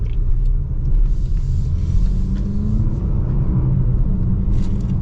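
A 2025 Range Rover Velar with a 2-liter four-cylinder engine accelerates on the road. A steady low engine drone and road rumble stay loud and even throughout, heard from inside the cabin with no one talking.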